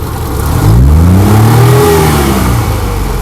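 A Maruti Omni engine revs up past 4000 RPM, rising to a loud, close, sustained mechanical whine that sweeps upward and then eases slightly, with no voices.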